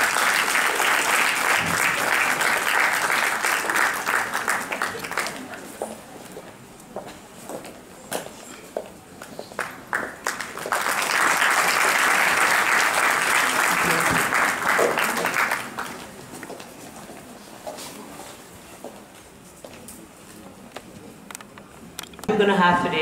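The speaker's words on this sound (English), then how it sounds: "Can you please give her a round of applause?" Graduation ceremony audience at a skill academy breaks into applause in two strong bursts separated by a quieter stretch of scattered claps and murmurs, with a final short surge at the end.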